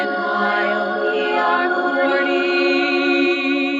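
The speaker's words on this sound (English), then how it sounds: "So I can play these great sounds like this bump." A podcast sound bump plays back through a mixer during a live recording, a loud sustained tonal jingle with rich harmonic layers lasting several seconds, close and clean with no voices over it.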